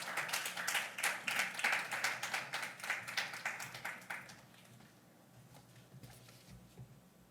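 A church congregation claps to welcome the visiting pastor to the pulpit, brisk rhythmic clapping for about four seconds that fades out into a quiet room with a few scattered taps.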